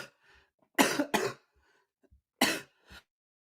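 Someone coughs on a talk show: two sharp coughs in quick succession, then a third after a pause and a softer follow-up, close to the microphone with faint murmuring in between.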